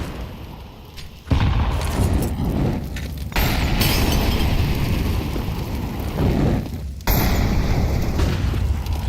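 HE grenade explosions in a Counter-Strike match, three heavy booming blasts in a row, each sudden and loud, followed by a long rumbling dusty decay.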